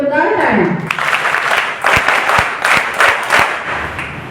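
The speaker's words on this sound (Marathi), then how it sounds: "परत एकदा व्योमसाठी जोरदार टाळ्या." Audience at a school function applauds for a student named Vyom, a dense, steady round of clapping from a crowd after a voice fades at the start.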